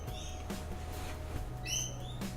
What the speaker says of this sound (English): I think you hear that? Those birds?